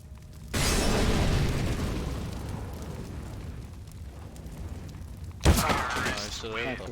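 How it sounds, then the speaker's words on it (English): A flashbang grenade goes off in a competitive shooter game on the Train map. A sudden loud burst rises into a sustained rushing roar, followed later by a second sharp bang with ringing tones. People talk over it. "Deploying flashbang."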